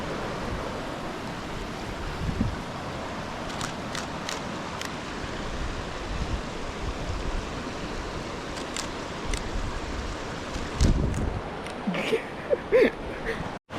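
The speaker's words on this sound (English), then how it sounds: "This is the other side of the river." River water flows steadily through the wilderness as a broad, unbroken rush. Faint knocks and wind gusts break in now and then, with no speech.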